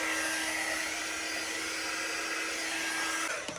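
A handheld quick-dry heat tool blows steadily to dry freshly applied, highly pigmented ink on a papercraft project, giving an even, loud whoosh with a faint hum that holds for several seconds and then cuts off.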